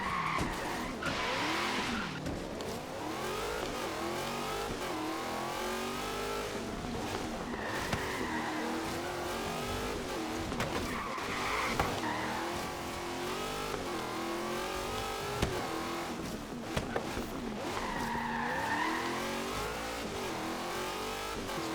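Heavy, powerful car sliding through turns in Forza Horizon 3, engine droning and revving steadily with repeated tire squeals as it drifts, loud and continuous without talk.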